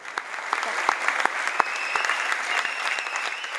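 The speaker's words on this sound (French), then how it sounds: "C'est un public conquis, qui a applaudi ce spectacle" An audience applauds warmly after a stage show paying tribute to Édith Piaf, a dense, steady wash of clapping from a large crowd with sharp individual claps standing out, heard alone without talk.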